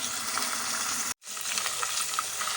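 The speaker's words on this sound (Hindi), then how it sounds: "और अब इसमें ये बीफ डाल देते हैं हम। ठीक, अब इसका भी हम सबको भून लेते हैं।" Beef frying in a pan for a bhindi gosht dish gives a steady close sizzle, broken by a brief silent gap before the hiss resumes with faint stirring.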